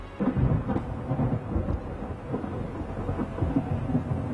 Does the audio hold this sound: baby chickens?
no